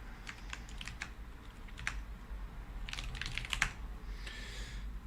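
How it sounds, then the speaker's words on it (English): Typing on a computer keyboard at a workstation running KDE Plasma on DEC Alpha or SGI MIPS64 hardware: scattered clusters of crisp key clicks over a steady low hum, with a denser burst of keystrokes near the end. "What is my typing?"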